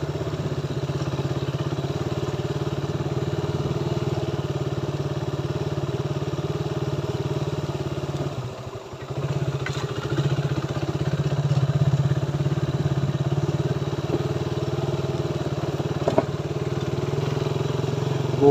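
A motorcycle engine runs steadily at idle close by, a constant loud rumble that dips briefly midway before settling back to the same even drone.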